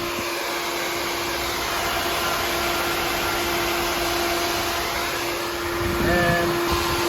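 An electric fan wired straight to the battery pulls air through the radiator core of a UK bus, giving a steady, loud broadband whoosh with a constant hum that carries on unchanged throughout.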